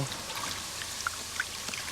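Water poured at a fishing spot, a soft trickling stream with a couple of brief splashy drops, fairly quiet and close.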